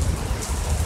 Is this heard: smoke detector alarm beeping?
no